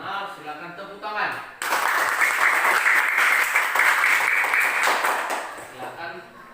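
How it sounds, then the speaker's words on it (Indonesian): A classroom group gives a burst of applause after a correct group presentation result, dense steady clapping swelling suddenly and filling several seconds before thinning out, with voices heard at the start. "silakan tepuk tangan"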